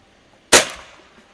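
A Beeman QB Chief air rifle fires a single pellet at a 25-yard target: one sharp, loud report with a short decaying tail, alone against a quiet background.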